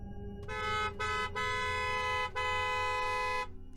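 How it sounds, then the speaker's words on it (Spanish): A long, loud car horn honk sounds in several sustained blasts with brief breaks between them, heard alone and close. "seguido de un pitazo prolongado y feroz."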